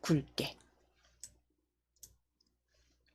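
A computer mouse clicks while an Excel spreadsheet is being formatted. A short burst of speech comes first, then a couple of sharp, isolated clicks sound in a quiet room.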